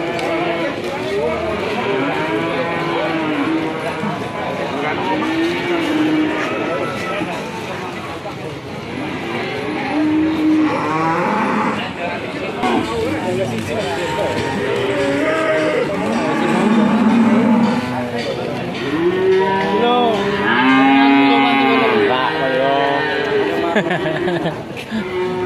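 A female Belgian Blue cow lows at the Ambarketawa cattle market amid a busy crowd of livestock, with occasional moos half-buried under nearly continuous nearby talking.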